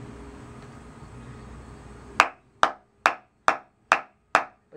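Ka-Bar Becker BK-9 knife batoned through a piece of dense ash wood, six sharp knocking strikes at a steady beat following a quiet stretch, close and crisp.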